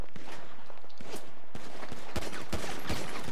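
Pistol gunfire in a GTA Online multiplayer deathmatch: several sharp shots spaced irregularly over constant loud game noise, close and punchy.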